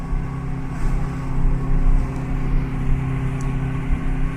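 A K20 engine in an Acura RSX drones steadily in 5th gear at part throttle on a dyno, a loud continuous hum with slight rises in pitch and volume.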